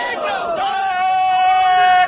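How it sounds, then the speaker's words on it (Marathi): Maha Vikas Aghadi party workers celebrating a by-election lead in Nanded, a short loud burst of crowd cheering and whooping with a sustained shouted cry rising over the babble. "महाविकास आघाडीचे जे कार्यकर्ते आहेत त्यांचा जल्लोष आपण या दृश्यांच्या माध्यमातून बघू"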